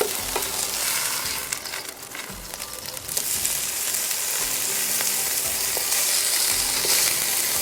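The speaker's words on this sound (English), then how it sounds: "There we go, we're gonna flip over the fish." Fish sizzles and crackles loudly in a hot pan, a steady bright frying hiss with occasional pops and a brief clatter.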